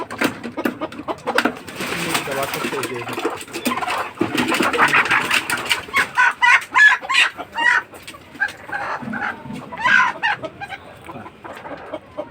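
Chickens about a month to six weeks old cluck and call continuously on a poultry farm, loud and close, with a rooster-like crow among them and faint voices in the background.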